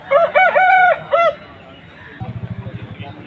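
A ten-month-old white rooster of about three kilograms crows loudly at a rooster market in Vijayawada, two long calls close by, followed by low rapid clucking.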